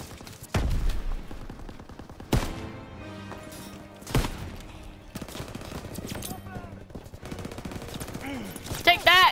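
A German machine gun fires in bursts from a hayloft during a Call of Duty battle: sharp, loud volleys and rapid rattling shots break out several times over a dense combat din, with faint voices in between.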